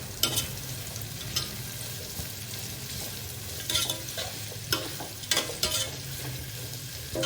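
Prawns sautéing in a pan for Chennai-style biryani, with a continuous low sizzle and frequent sharp scraping stirs of a spoon against the pan. A steady background hum sits underneath and nobody speaks.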